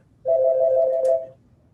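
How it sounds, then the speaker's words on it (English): A single loud, steady electronic telephone tone sounds for about a second during a public planning and zoning meeting, alone against a quiet room. "Charlie, do you know how to answer the phone?"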